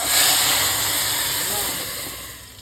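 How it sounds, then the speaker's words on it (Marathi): Hot oil with tempering spices sizzles and hisses continuously, a broad steady crackle that slowly fades a little over the short stretch. "काय तडका बसलाय आवाज पाहिला किती सुंदर आला"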